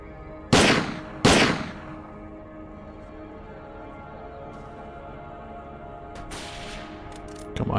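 Two sharp, loud pistol shots ring out about half a second apart in STALKER: Old World Addon, each leaving a short echoing tail over steady ambient hum, with another fainter report near the end.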